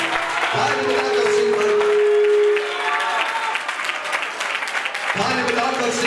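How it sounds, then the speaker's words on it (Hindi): A church congregation claps steadily and loudly in a worship service, the dense applause continuing for several seconds while a preacher's voice carries over it at times. "ताली बजाकर इस वचन को रिसीव करें"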